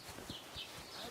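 Horse hooves clip-clopping in the video game Kingdom Come Deliverance 2, several soft evenly spaced hoof thuds at walking pace over a steady background hum.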